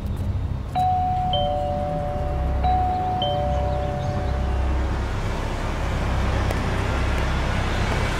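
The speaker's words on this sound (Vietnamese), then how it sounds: "Nhấn chuông đi." A doorbell rings twice with clear ding-dong chimes, set against steady roadway traffic noise in a Vietnamese crime drama scene.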